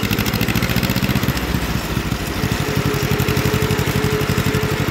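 A John Deere L-series tractor engine runs steadily close by in gear, its loud, even low-pitched putter pulsing rapidly and continuously throughout.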